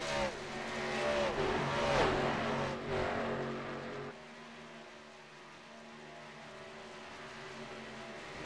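Dodge Avenger race cars lap Darlington in a sim racing replay, engines droning loud for a few seconds with a car roaring past, then fading to a softer distant hum of the field.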